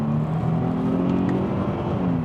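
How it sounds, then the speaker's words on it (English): A Mercedes CLK 350 V6 revs hard, a loud, steady engine roar with sustained harmonic drone and slight pitch shifts as the paddle-shift gearbox changes down, with no talking over it. "Does make a nice noise though, that V6."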